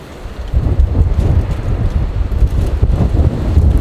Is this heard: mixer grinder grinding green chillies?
no